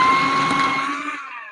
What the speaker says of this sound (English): we have a paper shredder to shred our papers